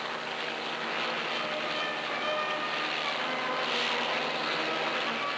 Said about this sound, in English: a Navy twin-turbine helicopter takes a crack at two speed records within a week